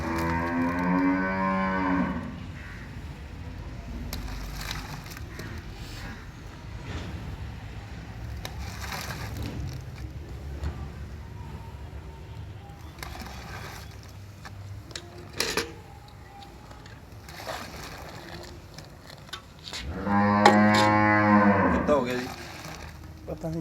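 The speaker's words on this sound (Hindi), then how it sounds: "बढ़िया वाली भैंस है जी।" Buffalo on a farm in India lowing in long, deep moos, one at the start and another near the end, with quieter farmyard sounds in between.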